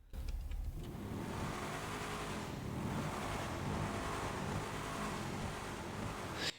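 A Coil Brawler off-road car in GTA Online idles and revs, its engine and downward-facing exhaust giving a steady, loud, rumbling drone with a brief lift in revs midway, cutting off at the end.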